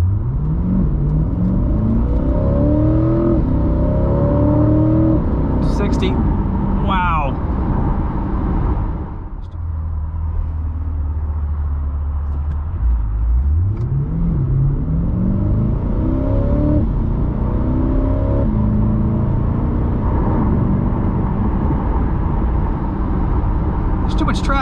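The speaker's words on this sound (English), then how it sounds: "we're at a dead stop. Are you ready?" A 2020 Corvette C8 pulls away from a dead stop, its engine loud and close, rising in pitch through each gear with a brief dip at a shift before climbing again over steady road rumble.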